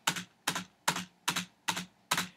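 Six evenly spaced key presses on a computer keyboard while working in Sibelius notation software, crisp, close and alone, each a sharp click with a short tail.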